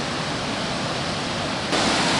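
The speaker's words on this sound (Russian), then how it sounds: "Горная река, ледники тают, и вода стекает вот по ущелью и спускается вниз с гор." A mountain river fed by melting glaciers rushes down a gorge in a loud, steady, broadband roar of turbulent water heard close by, with no talk.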